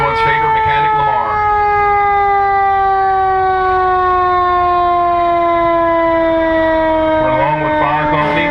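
A 2012 Pierce Aero XT fire engine in a parade sounds its siren, a loud, close, continuous wail that slowly sinks in pitch for several seconds with no pause.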